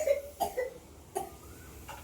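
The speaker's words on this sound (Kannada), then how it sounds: "ವಿಡಿಯೋದಲ್ಲಿ ಕ್ಯಾಪ್ಚರ್ ಆಯ್ತು ನೀವು ಕೆಮ್ಮಿದು" A person coughs three times in short, separate bursts spaced about three-quarters of a second apart, fairly close and moderately loud, with no talking.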